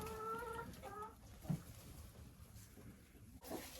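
A hen sitting in a nest box gives a few soft clucks early on, faint and close, over a noisy background with a brief thump midway.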